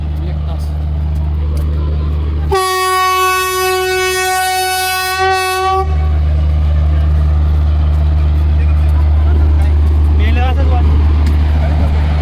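A loud, sustained train horn blasts for about three seconds over a steady low engine rumble at a railway station, then the idling drone carries on.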